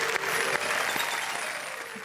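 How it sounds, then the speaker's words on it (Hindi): A comedy poetry show audience gives a brief burst of applause welcoming a poet on stage, the dense clapping steady and moderately loud, fading slightly by the end. "जोरदार तालियों से स्वागत करते हैं।"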